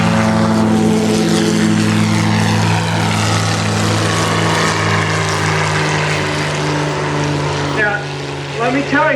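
A propeller airplane at full power on takeoff roll, a loud steady drone with strong low harmonics holding throughout, rising tones near the end, with a voice faintly underneath.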